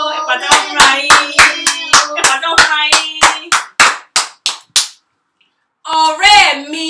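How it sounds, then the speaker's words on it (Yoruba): A group of children clapping together in a steady rhythm of about twenty loud, sharp claps that speed up and then stop, followed after a short silence by a brief burst of voices. "Ẹ pàtẹ́wọ́ fúnra yín."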